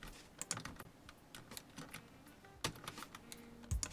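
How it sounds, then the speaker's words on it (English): Quick taps on a computer keyboard come in short bursts, a quiet, close clatter of clicking keys with brief pauses and a final heavier thump. "That's a neat little keyboard shortcut."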